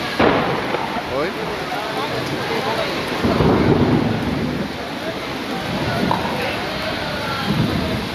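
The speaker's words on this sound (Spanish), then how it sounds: "Se vino la lluvia." Rain falls steadily during a downpour, with low rumbling swells that fit distant thunder, while people talk over the wash of the storm.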